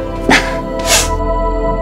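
A person sneezing in an Indian TV soap scene, two sharp bursts about half a second apart over a steady background hum, fairly loud and close.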